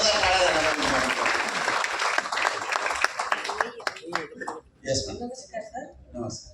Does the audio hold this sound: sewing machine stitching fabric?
no